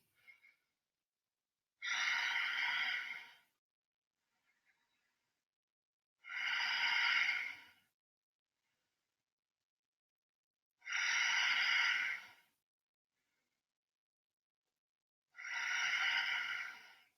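Deep breathing held in a seated yoga twist, four slow, even breaths spaced a few seconds apart, close and soft, each a long airy exhale with quiet gaps between.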